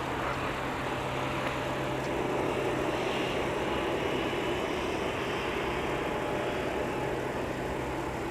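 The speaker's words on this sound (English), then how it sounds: "Oh, incoming 737-900." Boeing 737-900 airliner arriving at MSP airport in winter, a steady broad jet roar holding at moderate distance throughout with no breaks.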